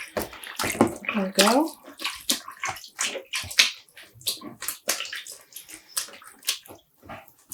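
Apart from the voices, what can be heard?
pressing yarn down in water to soak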